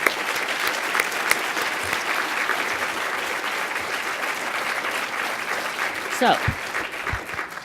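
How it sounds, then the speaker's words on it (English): Steady applause from attendees at a 2015 annual meeting, a continuous wash of clapping with a speaker's voice briefly heard near the start and end. "So a round of applause."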